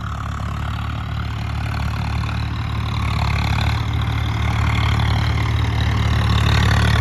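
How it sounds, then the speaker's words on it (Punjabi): A tractor engine idles steadily in neutral, a low, even rumble with a constant hum that holds for the whole stretch without revving. "ਟਰੈਕਟਰ ਪੂਰਾ ਨਿਊਡਲ ਕੀਤਾ"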